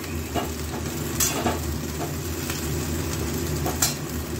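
Long beans (borboti) frying in hot oil give a steady, close sizzle that runs throughout, with a few louder crackles and the scrape of stirring now and then.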